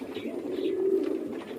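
A baby pigeon coos in a low, steady murmur lasting the whole moment, close and soft, with a faint rustle in the background and no voices.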